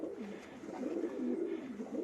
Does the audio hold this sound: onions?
no